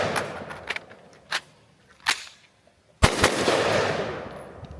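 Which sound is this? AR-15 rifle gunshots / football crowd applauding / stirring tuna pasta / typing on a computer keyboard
AR-15 rifle gunshots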